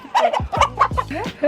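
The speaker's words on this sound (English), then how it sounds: "doesn't know how to put down the chicken" Chicken clucking while being held on a trip near Bogotá, Colombia, a quick close series of loud, agitated clucks and squawks with no talking.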